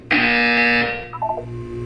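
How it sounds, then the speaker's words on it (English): A loud, sustained electronic buzzer in the video game Portal 2, with a harsh harmonic tone, sounds for about a second, then cuts off, leaving a few brief beeping blips and faint background hum. "You will hear a buzzer. When you hear the buzzer, look up at the ceiling."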